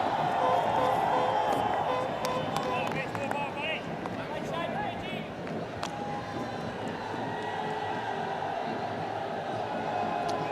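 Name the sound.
big cricket crowd at the ground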